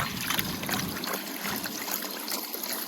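Water from a pump trickles and splashes into natural Welsh stone rock pools at a children's splash zone on a farm park, a continuous, close, bright watery rush with no voices.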